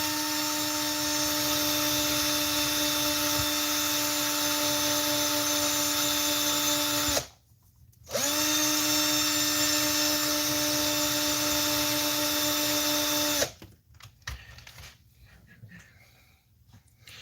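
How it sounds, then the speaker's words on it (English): A power tool polishing the end of a rod-end ball whines at a high, steady pitch, stops briefly, spins up again and runs before cutting off, leaving quiet shop noise. "I'm just polishing the end of that ball there that goes into the rod end"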